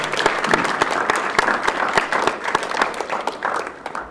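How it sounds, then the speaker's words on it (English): Audience applause at a morning workshop session, a crowd clapping in a lively mix of sharp individual claps over a rolling bed of hands, staying fairly loud and tapering slightly near the end. "Let's give a hand clap one more time for the particular lady."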